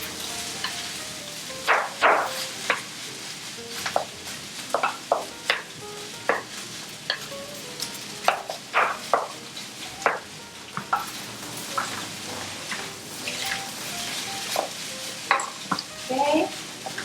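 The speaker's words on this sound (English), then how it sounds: "Now this is where I use a second spatula, and this is helpful for stirring." Two spatulas scrape and toss shrimp fried rice in a pan, a busy run of sharp metallic scrapes and clicks over a soft sizzle, close and fairly loud.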